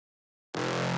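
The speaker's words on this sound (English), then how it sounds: "That mid bass." A distorted mid bass synth layer from an electronic dance production enters abruptly after silence and holds steadily, loud and alone.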